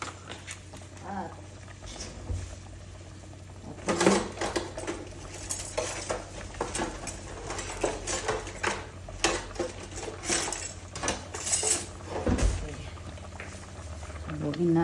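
Misua and sotanghon soup with ground beef is stirred in a pot, giving repeated clinks and scrapes of a utensil against metal over a steady simmer, with a voice talking over it.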